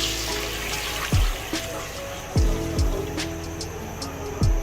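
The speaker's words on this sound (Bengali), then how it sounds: "এখন আমি এটার মধ্যে পানি দিব।" Water pours into a cooking pot of soaked rice sizzling in oil for pilau, a running splash with several sharp knocks and clanks of the pot between pours, no talk.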